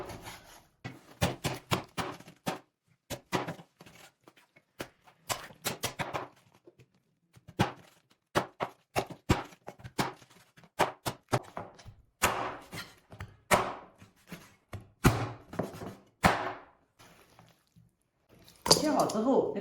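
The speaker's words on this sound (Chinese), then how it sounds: "现在给它改一下刀" A knife chops chicken on a cutting board, sharp repeated thunks in quick irregular bursts with short pauses, close and clear, while a person talks between strokes.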